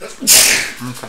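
A single sharp sneeze bursts out, brief and close, with a short spoken word just afterward.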